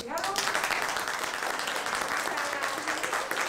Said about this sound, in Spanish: primero un aplauso para todos ustedes que llegaron